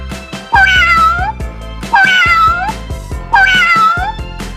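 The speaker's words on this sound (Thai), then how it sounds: "เสียงแมว" A cat meows loudly three times in a slow, evenly spaced rhythm, each call drawn out and plaintive, close to the microphone.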